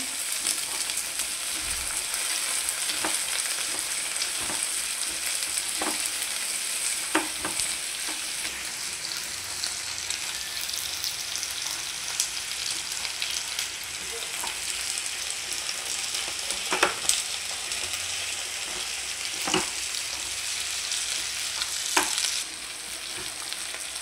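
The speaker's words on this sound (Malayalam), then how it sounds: "വെണ്ടയ്ക്കായും പടവലങ്ങയും നമുക്ക് ഇട്ട് കൊടുക്കാം. അതൊന്ന് വഴന്നെടുക്കട്ടെ." Okra and snake gourd sauté in a hot pan with a steady, even sizzle and occasional light stirring scrapes, heard up close with no talking.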